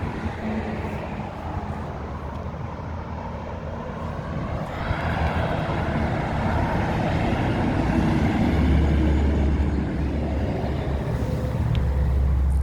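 A 1998 Kubota tractor engine runs steadily, with a low continuous mechanical rumble that swells slightly louder partway through and stays near, with no talking.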